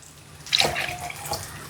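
A little water is poured into a pot of vegetable curry in a village kitchen, giving a short splash and trickle, then a sharp clink of a vessel at the end.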